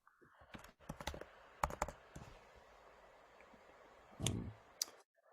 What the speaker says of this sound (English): I've just been typing and responding to some of the other questions